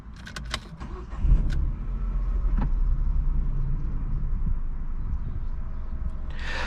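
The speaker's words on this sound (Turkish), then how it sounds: "Çalıştıralım. Bir sesini duyalım aracın." A Renault Symbol 0.9 TCe three-cylinder turbo petrol engine turns over and settles into a steady, low idle hum, with a few sharp clicks and jingles at the start.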